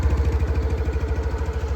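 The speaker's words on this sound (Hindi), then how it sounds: "देखिए जुपिटर में मैं स्टार्ट करूँगा, स्टार्ट होने की कोई आवाज़ नहीं आई, स्कूटर आपका स्टार्ट हो चुका है।" TVS Jupiter 110 scooter engine idling with a steady, low, even throb close by, running continuously without any talk.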